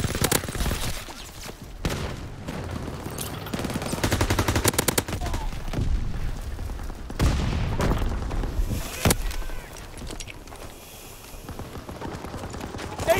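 World War II gunfire in Call of Duty WWII during a winter siege: rapid bursts and volleys of rifle and machine-gun shots crackle repeatedly, loud and close, with scattered quieter pops between the salvos.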